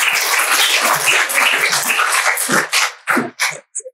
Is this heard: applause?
yes